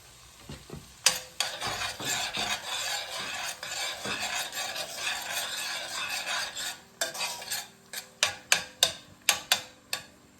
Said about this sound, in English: We're going to let those saute for about maybe 2 minutes.